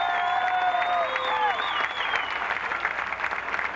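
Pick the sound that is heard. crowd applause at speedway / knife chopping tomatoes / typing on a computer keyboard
crowd applause at speedway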